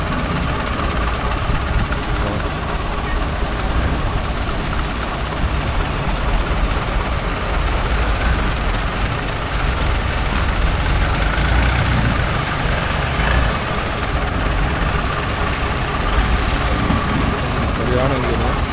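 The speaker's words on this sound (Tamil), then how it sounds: "செம பெரிய இன்ஜின் இது." A large long-tail boat engine on a Bangkok canal runs loud and steady with a heavy low rumble, continuous throughout, with people talking over it.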